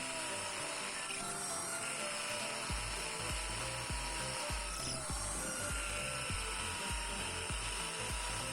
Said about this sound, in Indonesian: tidak ada masalah untuk pengeboran beton